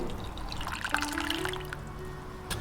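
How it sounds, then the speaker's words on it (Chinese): Fresh ginger broken into small pieces is rinsed in a bowl of clean water, giving soft close splashes and trickling drips that run steadily through the short moment with no voices. "倒入清水，把生姜清洗干净"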